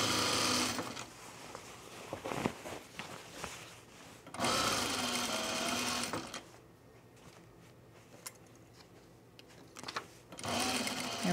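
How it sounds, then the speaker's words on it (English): A sewing machine back stitches at the center back seam of an Ellsworth garment, running in several fast buzzing bursts separated by pauses, fairly close and steady. "Back stitch right there at center back."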